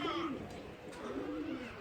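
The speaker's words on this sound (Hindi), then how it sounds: "और अभी ये बाजरे पे कबूतर उड़ रहे हैं" Pigeons near a flock flying over a millet field, with soft cooing and bird calls heard close, steady throughout under light background noise.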